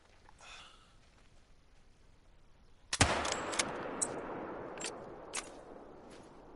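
Magnum rifle fired in the hunting game Call of the Wild: one loud, sharp report lands abruptly after a quiet stretch, followed by several fainter cracks and a lingering decay.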